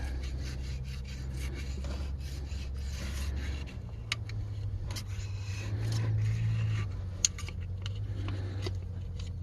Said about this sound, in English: Just scrape it lightly. Get it clean.